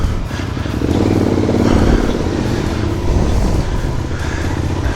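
Motorcycles pulling away from a Socar petrol station at the start of a summer ride from Kyiv toward Uman, a steady loud engine drone with rising revs close by, no talking.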